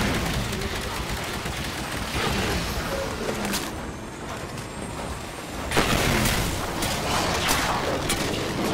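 Heavy weapon fire and explosions during a battle in the Titanfall campaign, dense continuous booming and crackling bursts with a loud surge partway through, voices speaking over the combat.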